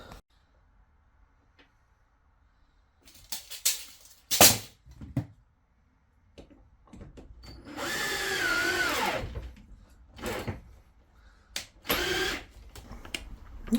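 A power drill drives screws into the wooden sofa frame inside a project narrowboat, whirring in several short bursts and then a longer, loud, sustained run, with quiet pauses between.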